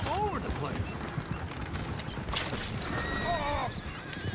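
Horses whinny and their hooves clip-clop in Red Dead Redemption 2 on a PS4 Pro. Two loud neighs stand out over a busy, continuous hoof clatter, and someone shouts over the commotion.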